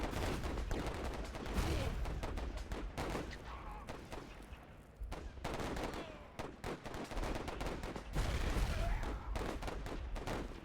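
In the video game Warfare 1917/1944, repeated explosive firing and blasts rumble in irregular clusters. Dense battlefield gunfire fills the scene, moderately loud and continuous, with no talking.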